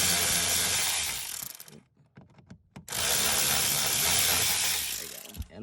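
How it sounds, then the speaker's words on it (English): A T20 Torx screw is being backed out of a panel on a Porsche Cayenne S with a ratcheting driver, giving loud bursts of rapid clicking broken by a short pause and a few lighter ticks. "there should be a T20 TORX bit. So what we're going to do is go ahead and remove that"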